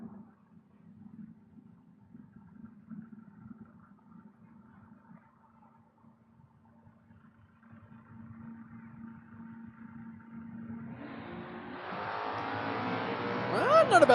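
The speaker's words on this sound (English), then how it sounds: "Well, not a bad little drag race coming together." A 1986 Ford Mustang and a second Mustang line up for a drag race at a spring drag event: a low idling rumble under an announcer's voice, then engines surge into loud, rising full-throttle revving at the launch.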